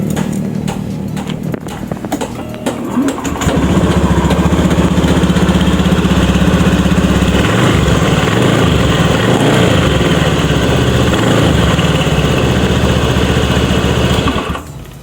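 A Honda Beat FI scooter engine cranks and starts after a few seconds of faint mechanical fumbling, then settles into a steady, loud idle that runs close by until it cuts off near the end.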